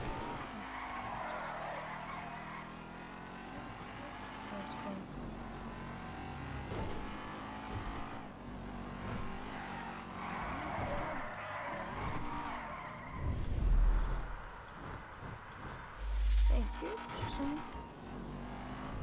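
A car drifts and skids in GTA 5, with repeated tire squeals over revving engine noise and a couple of heavy thuds, loud and close.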